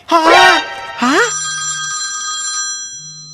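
A telephone rings with a sustained electronic tone that holds steady, following a brief vocal exclamation at the start.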